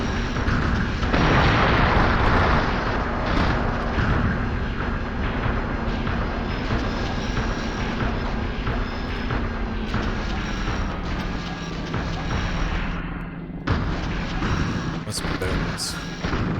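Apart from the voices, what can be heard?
gunfire and explosions hitting player in Steel Battalion video game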